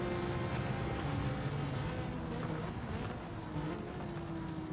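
Alfa Romeo Giulia GTAm racing engine in Gran Turismo 7 on a Le Mans circuit, a steady loud drone with shifting pitch as it revs and changes gear, with no voices over it.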